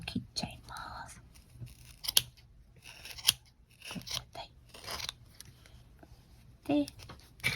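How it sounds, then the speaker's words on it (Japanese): Scissors snip through a loop of crochet yarn in several short, crisp cuts, close up, with soft whispered Japanese talk between them. "輪っかを切っちゃいます。"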